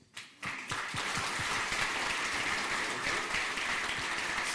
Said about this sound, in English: Let's have an applause for the people here.